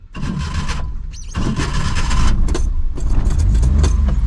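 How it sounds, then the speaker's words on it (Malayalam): A car being started with the key: keys jangle in the ignition, then the engine cranks and catches, settling into a close, loud running sound. "ഞാൻ വാഹനം സ്റ്റാർട്ട് ചെയ്യുന്നു"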